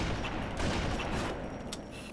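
Sustained machine gun fire in a Halo-style video game, a dense continuous rattle of rapid shots with booming impacts, fairly loud and unbroken for about two seconds.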